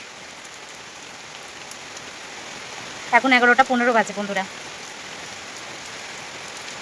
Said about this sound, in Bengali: হঠাৎ জোরে বৃষ্টি এসেছে সব কাচতে, আর পুরো ভিজে গেছি